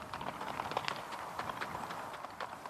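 Hooves of a ridden horse clip-clop at a steady walking rhythm, faint and somewhat distant, with light background noise and no talk.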